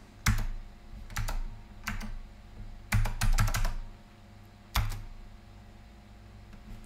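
Someone types on a computer keyboard while flashing the BIOS of an ECS P5SD-B+ motherboard: close, crisp clusters of keystrokes in quick bursts separated by short pauses.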